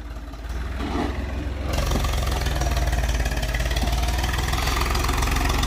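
An aging Eicher 380 tractor engine runs steadily at close range, a low rumbling idle that grows louder and fuller after about two seconds and holds as a continuous throbbing drone with no talk.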